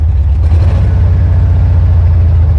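A Volkswagen Safari concept buggy engine runs loud and close with a deep, steady low rumble and a throbbing rhythm, holding at a heavy idle-like drone throughout without any voices.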